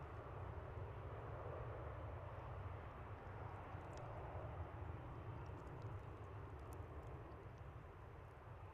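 A Boeing 777 airliner at DFW airport gives a steady, loud roar of jet engines that stays constant from start to finish, with no voices.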